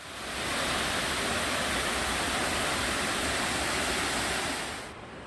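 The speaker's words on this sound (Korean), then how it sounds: "두 개의 폭포가 모여 아래쪽 무릉계곡으로 이어집니다." A broad, constant rush of falling water pours from the twin waterfalls that merge into Mureung Valley, loud and close, holding steady before cutting off abruptly at the end.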